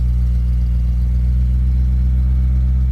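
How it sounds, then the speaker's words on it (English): A BMW S65 naturally aspirated V8 gives a deep, steady mechanical growl, loud and close, holding an even drone throughout with no voices. "It starts with a deep mechanical growl"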